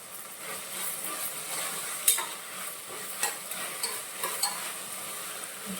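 Tomatoes sauté in a pan with a soft, steady sizzle, broken by occasional light clicks and scrapes of a spoon stirring, close and fairly quiet with no voices.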